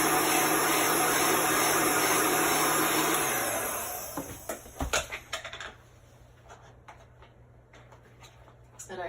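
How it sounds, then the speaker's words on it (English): A heat gun blows steadily and loudly while drying chalk paste on a bicycle sign, cutting off after about four seconds; afterwards come scattered clicks and handling noises with a faint voice in the background. "You want to continually move your heat gun."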